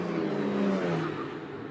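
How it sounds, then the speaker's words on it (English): An autonomous race car at a CES 2025 Indy Autonomous Challenge race picks up throttle and builds speed, with a loud engine whine and drone that swells and then eases slightly, heard alone. "You can hear that throttle pickup, building some speed, using that high line"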